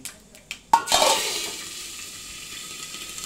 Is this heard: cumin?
yes